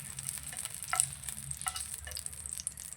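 Ginger sautéing in a pan for a Kerala-style mango chammanthi, a steady soft sizzle with occasional stirring scrapes and small crackles, close and continuous with no talking.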